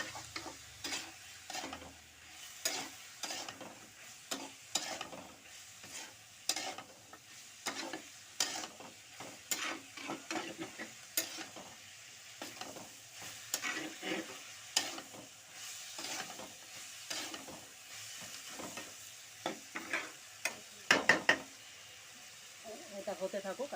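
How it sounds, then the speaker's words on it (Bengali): A metal spatula scrapes and stirs food frying in a hot pan, repeated rhythmic scraping strokes over a steady close sizzle, moderately loud. "এটা হতে থাকুক, আস্তে আস্তে খুন্তি দিয়ে নাড়িয়ে নাড়িয়ে"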